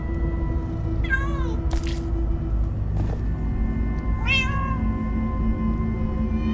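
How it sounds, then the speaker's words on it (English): Two separate cat meows from Minecraft: Story Mode, each short and rising then falling, spaced a few seconds apart over a low rumbling background. "Ah, many cats, so many cats"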